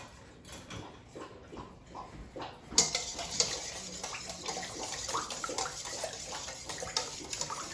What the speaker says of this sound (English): I'm going to whisk those